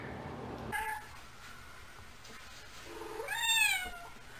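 Two cats give drawn-out, rising meows indoors, a short call early and a louder wavering one near the end, over a quiet background.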